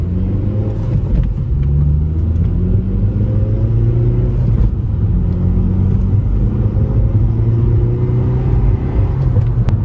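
A 9th-generation Honda Civic Si engine while driving and downshifting, heard as a steady, loud in-cabin rumble with slowly rising and falling engine tones throughout, no voices.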